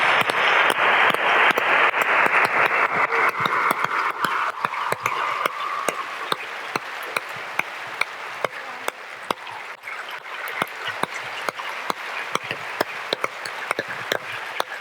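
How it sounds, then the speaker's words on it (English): Audience applause at a talk, steady crowd clapping that thins out into scattered, sharp individual claps, with a hiss of cheering early on fading away. "Ginny, please, a big round of applause."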